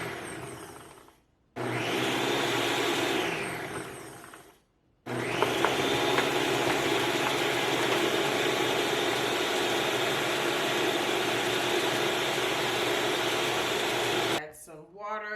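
Blender on its Auto IQ program crushing iced watermelon with a little added water, a loud steady whirring grind that stops briefly, restarts and runs continuously, then cuts off near the end.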